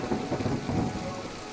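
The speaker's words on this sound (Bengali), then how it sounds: "বাইরের ঝড়ের সঙ্গে বৃষ্টি শুরু হয়েছে" Brief burst of heavy rain with gusty, rumbling low tones, like a rainstorm close by.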